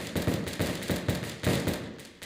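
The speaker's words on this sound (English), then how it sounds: "they're punking me with the gunshots" Repeated sharp gunshots in quick succession, several loud cracks with booming low thumps, close and alone without talk.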